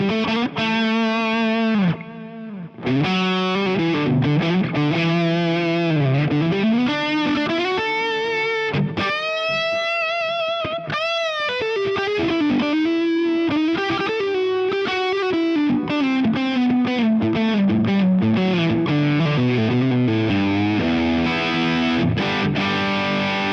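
An electric guitar played through an AmpliTube 5 Fender Supersonic full drive preset with compression and EQ: a distorted lead line of bends, slides and sustained notes, mostly continuous and prominent, with a short pause early on.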